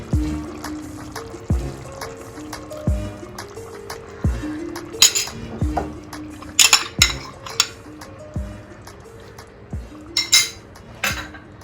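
A metal spoon stirs curd into cooked chicken in a pan, giving repeated clinks and scrapes against the pan in an irregular rhythm along with soft wet sloshing, close by with no talking.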